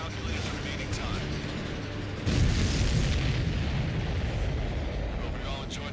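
An enemy supply ship explodes in the Ace Combat 7 flight game, a sudden heavy boom that erupts midway and swells into a sustained loud roar over engine and radio chatter.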